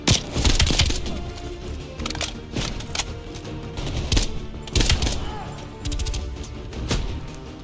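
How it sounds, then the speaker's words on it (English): Repeated bursts of gunfire in the shooter game Call of Duty Cold War, loud sharp cracks and rattling volleys coming in uneven clusters throughout, with battlefield noise between them. "who are you shooting at?"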